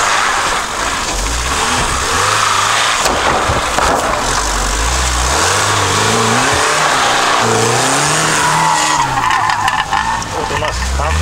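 A stock off-road car in a jeep sprint race at Stepnye Prostory 2023 revs hard with rising and falling engine pitch and tire skids, loud and continuous, while people talk.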